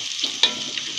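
Cumin seeds dry-roasting in a pan over a gas flame for jeera rice give off a steady, soft crackling sizzle with a brief louder pop partway through, close and alone without any talk.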